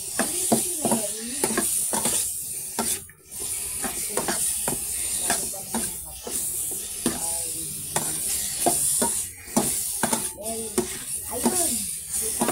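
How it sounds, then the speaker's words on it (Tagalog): Pork pieces fry and get stirred in a pan for a Filipino adobo dish, a steady sizzle and hiss running throughout with scraping stir sounds, while a person talks over the cooking. "nilagay ko na yung baboy. Haluin ko na siya."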